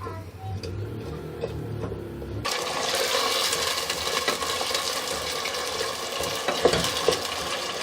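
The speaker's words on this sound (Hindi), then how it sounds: "अब हम इसमें आलू और ये चुकंदर डालकर इनको ब्राउन करेंगे।" Diced potatoes and beetroot browning in a pan give a steady, close sizzle with faint scraping and stirring, starting a couple of seconds in and continuing without pause.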